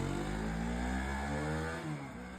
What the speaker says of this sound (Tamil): இன்ஜின்லாம் சவுண்டு பக்காவாக இருக்கு